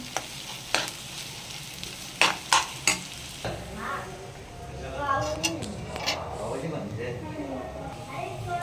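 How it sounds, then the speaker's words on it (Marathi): Masala for pav bhaji sautés in a pan with a steady sizzle, broken by sharp scraping and clinking stirring strokes near the start, while a voice talks faintly underneath. "छान असं आता परतून घ्यायचं त्याला आपण"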